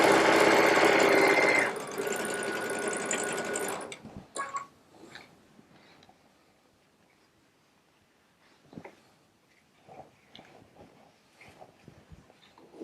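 A Baby Lock Solaris sewing machine fitted with a 1/4 inch piecing foot runs a short burst of fast, loud mechanical stitching that stops after a few seconds, followed by quiet handling noises and soft clicks.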